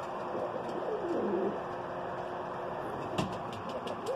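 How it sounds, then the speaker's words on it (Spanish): Blue pigeons cooing as one courts another perched above, soft rolling coos rising and falling near the middle of the span, over a steady outdoor background hum with a few faint clicks and a brief chirp near the end. "Paloma azul, buena seducción. Está enamorando a la otra paloma de arriba."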